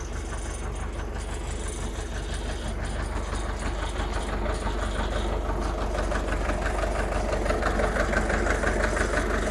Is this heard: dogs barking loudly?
no